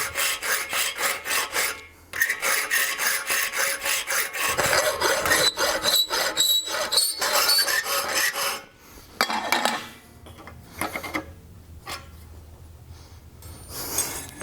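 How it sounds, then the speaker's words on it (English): A hand file rasps back and forth across a steel tenon being shaped for a blacksmith-made 18th–19th century style toaster, loud repeated strokes in steady bursts with short pauses between runs. "So here's the tenon after filing it"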